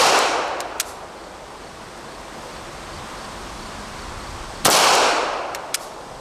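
Two sharp, loud shots from a Sig Legion 9mm pistol fired double action at about 7 yards, a few seconds apart, each followed by a reverberant decay with quiet between and no talking.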